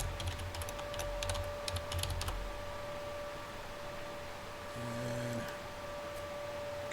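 Fast bursts of typing on a computer keyboard while entering C++ code, close and clear over a faint steady hum, then a pause with only a quiet background tone.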